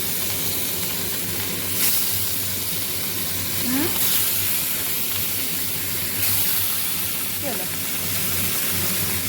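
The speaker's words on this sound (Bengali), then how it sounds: "চলো এবার এই মাছগুলো একটু ভেজে নিই এখানে।" Fish pieces for fish kabab frying in hot oil: a steady, close hiss of sizzling continues throughout, broken by a few brief swells and soft clinks.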